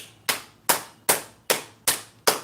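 Six slow, evenly spaced single claps ring out alone in a quiet room, each a sharp close slap with a short decaying tail.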